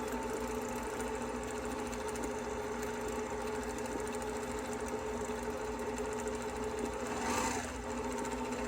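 A Brother PQ1500SL semi-industrial sewing machine runs steadily at high speed, a continuous fast whirring stitch drone with a slight surge near the end, no talking over it.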